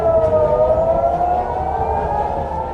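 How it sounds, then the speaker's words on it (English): Emergency civil defense sirens wail across Israel in a sustained, loud, steady tone that sags slightly in pitch, with no voices over it. "emergency sirens are sounding across Israel"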